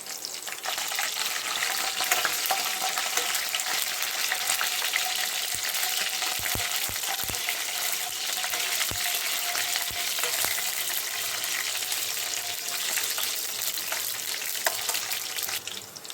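Curry leaves and slit green chillies frying in hot oil for a paneer gravy, a continuous bright sizzle with a few soft clicks of a utensil against the pan.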